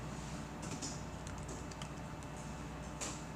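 A few light keystrokes on a computer keyboard while writing CSS code, quiet scattered taps over a steady background hum.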